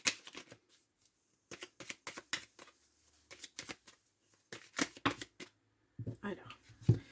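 Tarot cards are shuffled for a nine-card draw, close crisp riffles and flicks in uneven clusters separated by short silences, with a brief voice near the end.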